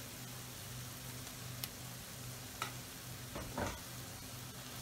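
Tomato paste being stirred into a sizzling Persian green bean stew, a soft steady fry with a few brief spoon scrapes and clinks near the end.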